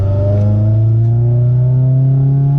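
A Honda Civic with a swapped B20 engine drones loudly from close by, its pitch climbing smoothly as it downshifts and revs up through a gear during a 0-60 run.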